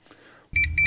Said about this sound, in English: There will always be an incessant beeping that happens.